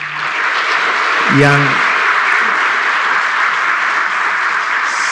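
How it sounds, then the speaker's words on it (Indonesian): Audience applause at a Lazisnu PBNU event in Indonesia, a continuous wash of clapping under a brief moment of a man's amplified speech at the start. "memberikan tepuk tangan yang paling keras"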